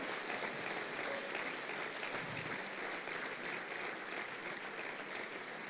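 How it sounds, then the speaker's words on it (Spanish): Sustained applause from a church congregation during a sermon, a dense, steady wash of clapping filling the hall at even loudness throughout, with no voices rising above it. "Siga aplaudiendo y dándole culto a Dios."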